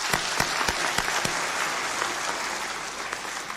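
Applause for delegates at a church plenary assembly in a large hall: dense, sustained clapping from a sizable crowd, with a few sharper nearby claps standing out early before settling into an even wash.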